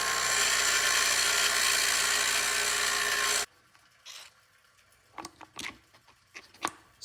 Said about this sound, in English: So I need to grind down these threads.